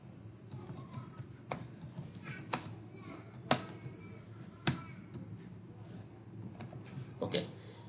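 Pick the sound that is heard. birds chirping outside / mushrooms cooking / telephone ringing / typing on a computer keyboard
typing on a computer keyboard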